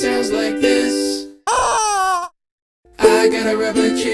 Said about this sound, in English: I got a rubber chicken and it sounds like this.